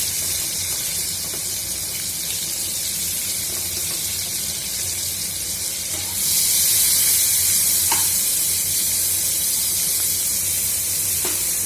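Chopped onions and minced garlic frying in hot oil, a steady close sizzle that grows louder and brighter partway through as the onions hit the pan, with a few soft stirring clinks.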